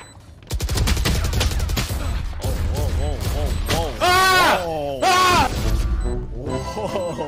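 Rapid bursts of gunfire in a shooter video game crackle loudly and continuously, with several sustained tonal streaks from effects mixed in, and players talk over the shots.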